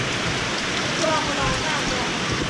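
Steady rain falling in a village in Keng Tung, a dense continuous hiss that is fairly loud and close, with a voice faintly present beneath it.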